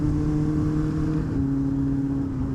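A motorcycle engine runs steadily on its first ride after winter, a loud close drone with a slight drop in pitch partway through and no talk.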